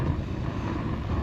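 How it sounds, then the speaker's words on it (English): Steady, loud wind gusting across camping stove burners outdoors, a continuous broadband roar with low rumble that holds throughout, with no talking. "the wind really wants to turn these things off"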